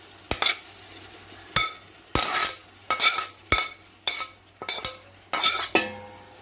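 Chopped tomatoes being stirred into biryani masala for chicken dum biryani, a metal spoon knocking and scraping against the pan in about ten distinct strokes over a faint sizzle, close and clear with no talk.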